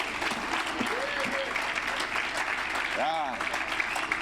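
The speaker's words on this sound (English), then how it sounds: "clap hands for the ladies." An audience claps steadily for a group of women at a ULP event, dense applause throughout, with a voice briefly speaking over it.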